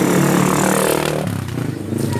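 A motorcycle roars past up close, its loud engine note filling the first second and then fading, with people talking over it.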